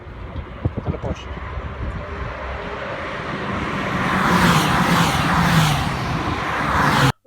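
At the Zandvoort circuit, a Porsche 911 GT3 race car drones past in wind-buffeted outdoor air, its engine roar swelling and holding loud before cutting off abruptly, with a voice talking faintly early on.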